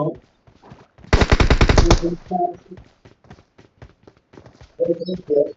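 An M762 assault rifle fires in a video game: one rapid, loud burst of close automatic fire lasting under a second, with a voice talking before and after it.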